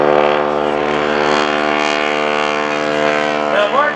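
A 450 horsepower Super Stearman biplane radial engine at an airshow roars with a steady, loud, sustained drone that holds at a constant pitch throughout.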